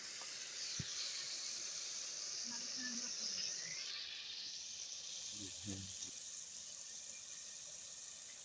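Goshat (meat) added to biryani masala in a pot, giving a steady hiss of sizzling and frying that runs throughout, fairly quiet, with a few faint background tones.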